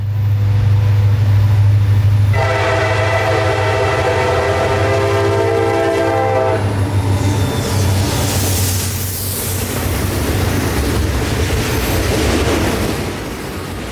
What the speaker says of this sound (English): daily mixed freight running from Waycross, Georgia to Hialeah Yard at Miami, Florida.